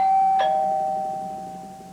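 A parish bell in a small church sounds a single bright electronic-style chime that rings on with a long, steadily fading tone, no voices.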